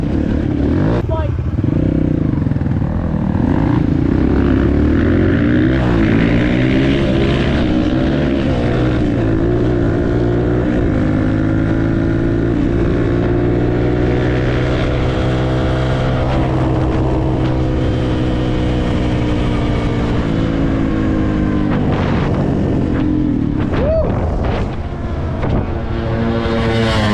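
A loud, close bike engine drones continuously with rising and falling revs on an outdoor ride, the pitch climbing and dropping throughout, with voices mixed in under the engine noise.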